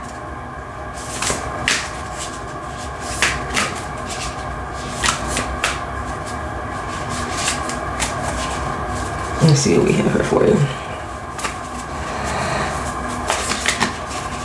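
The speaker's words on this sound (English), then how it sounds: "These cards are really thick, so it's difficult to shuffle." Thick tarot reading cards being shuffled with effort, giving a series of soft riffling clicks and flutters at intervals, with a denser burst around the middle, under a voice speaking at moderate level.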